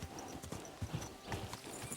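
A horse in Kingdom Come Deliverance 2 makes steady hoof clip-clops at close range and gives a brief whinny, all fairly quiet.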